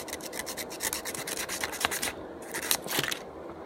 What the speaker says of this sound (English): Take a little piece of sandpaper and you just sand the sides right there.